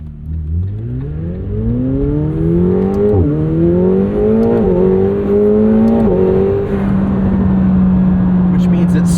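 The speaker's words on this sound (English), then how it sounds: "can we talk about the sound of this 4-liter V8?" A 2025 McLaren 750S with a flat-plane-crank 4-liter twin-turbo V8 revs up loud and close, its high, snarling pitch climbing in repeated surges before settling into a steady drone.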